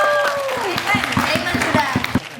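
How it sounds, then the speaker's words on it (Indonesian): Applause from a small group of friends gathered at a forest cabin for Thanksgiving, a short burst of claps with voices and cheering mixed in close by. "Sukses. Tepuk tangan."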